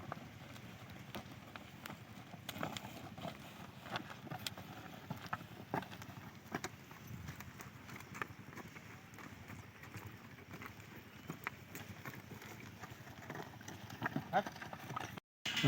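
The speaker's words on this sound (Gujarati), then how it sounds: "અમારે ત્યાં બળદ વડે ખેતી થાય છે" Bullocks work a farm field while okra seeds are sown, their hooves thudding in a faint, steady, irregular rhythm through the whole stretch against an outdoor wind background.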